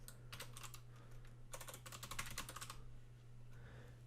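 Computer keyboard typing in two bursts of quick clicks, first short then longer, entering a name for a new virtual machine, over a steady low electrical hum, with no voices.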